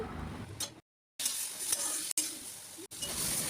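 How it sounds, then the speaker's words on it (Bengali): Spices with salt, turmeric and potatoes sauté in a pan as small splashes of water are added, giving a close, continuous sizzle with stirring scrapes, interrupted by a few brief silent cuts. "এইবার সামান্য সামান্য জল অ্যাড করতে করতে আমি মশলা খুব ভালো করে কষিয়ে নিচ্ছি।"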